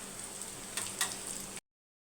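Taro root pieces frying crisp in hot oil, a soft continuous sizzle with a couple of brief brighter crackles before cutting off abruptly.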